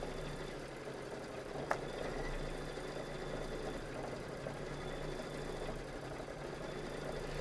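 An embroidery sewing machine stitches out a design, giving a steady, continuous mechanical hum and chatter at a moderate level with no pauses and a single brief click partway through.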